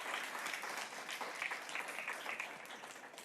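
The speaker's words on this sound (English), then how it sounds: "give them a round of applause for the work that they're doing" A crowd applauds, dense overlapping clapping at moderate distance, sustained throughout without letup.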